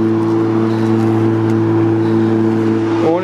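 A Makita DLM 382 PM2 cordless lawn mower runs along a lawn edge, giving a loud, steady, tonal motor hum that holds unchanged throughout.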